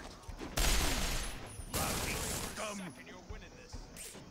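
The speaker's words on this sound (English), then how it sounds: "How many times can he shoot me?" Gunfire in the video game Resonance of Fate comes as two loud bursts of rapid shots, each lasting about a second, with quieter mechanical game sounds and faint effects between them.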